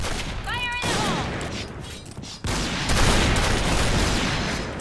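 Dense bursts of automatic gunfire in the Point Blank shooter game, loud and continuous with a brief lull midway before firing resumes, with shouting and in-game sound effects over it.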